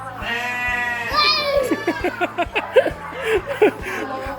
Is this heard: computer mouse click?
no